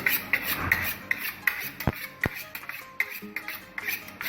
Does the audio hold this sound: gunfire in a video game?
no